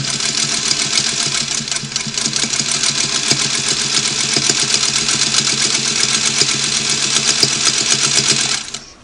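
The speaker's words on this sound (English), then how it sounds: "I put the machine feed lever down to sew forward, so it's like I've back tacked my seam" A Singer Model 301 sewing machine runs forward, stitching steadily with a fast, even mechanical whir that holds nearly constant for about nine seconds before stopping abruptly; close and loud, with no talk.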